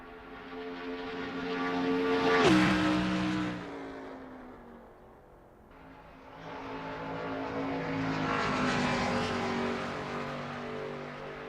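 A NASCAR race car engine at full throttle in the racing sim Assetto Corsa at Motegi, roaring as it revs up, drops sharply on a shift, eases off, then builds again in a loud sustained howl.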